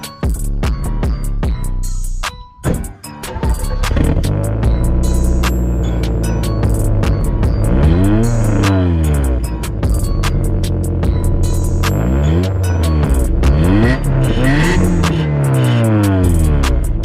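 A car engine idles and revs through a stock muffler with holes drilled in it, a deep throbbing exhaust burble that dips briefly, then swells in repeated rising and falling revs, loud and close.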